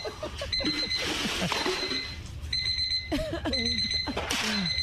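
An alarm clock rings in bursts in a cartoon comedy scene, shrill repeated tones cutting in and out over animated voices and clattering commotion.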